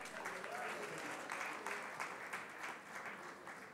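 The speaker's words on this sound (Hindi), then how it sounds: "मुझे लगता है जोरदार तालियों से एक बार तो स्वागत हो ही जाए." Applause from an audience greeting a speaker at a sanitation event, a soft, steady clatter of many hands that rises and falls slightly over a few seconds, with some voices faintly beneath it.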